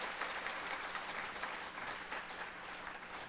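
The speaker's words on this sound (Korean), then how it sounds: "최규 목사님께 크게 박수 한번 해주시기" A church congregation at a Wednesday service claps for the pastor, a steady wash of applause throughout without any speech.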